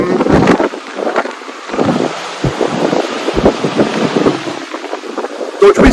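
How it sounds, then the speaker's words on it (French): Wind gusts outdoors buffet the microphone in uneven, rumbling bursts that rise and fall over six seconds, loud and close, with no clear talking. "peut-être un peu de vent, là, on va retourner à l'abri du vent"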